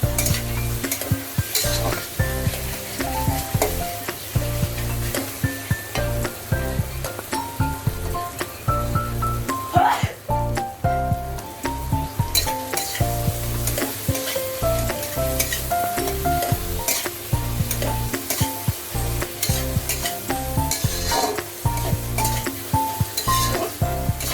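Chicken kosha, a Bengali spiced chicken dish, sizzles and fries in oil while being stirred steadily, with frequent scraping and clinking of a utensil against the pan, loud and close throughout with no talk.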